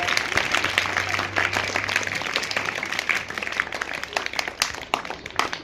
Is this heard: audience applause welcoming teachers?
yes